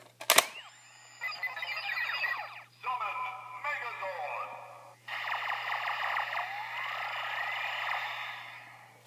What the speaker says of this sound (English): Here's the sound that it plays in the Gosei Morpher